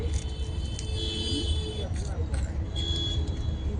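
Car moving through traffic, a steady engine and road rumble heard from inside the vehicle with a high electronic tone, while a person talks over it.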